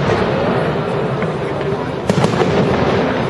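Bonfire night fireworks crackle and pop at a distance amid a dense outdoor wash of noise, with a few sharper bursts near the end, with no clear speech.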